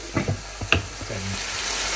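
Malabar spinach (pui shak) greens sizzling as they hit a hot frying pan during home vegetable cooking, with a few stirring knocks early on, then a steady frying hiss close by without speech.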